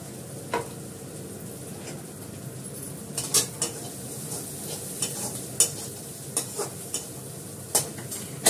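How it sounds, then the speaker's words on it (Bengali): Onion paste sautéing in oil gives off a low steady sizzle, and a spoon stirs it with irregular clinks and scrapes against the pan, loud and close. "কষাতে করে কষাতে তেলটা উঠে আসছে, দেখতে পাচ্ছ?"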